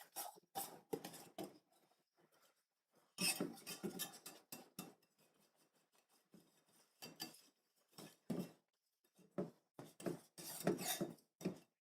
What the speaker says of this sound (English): using the whisk to like feel the bottom of the pan